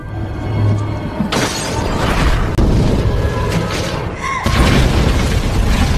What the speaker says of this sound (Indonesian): rumah apung itu seketika meledak dengan dahsyatnya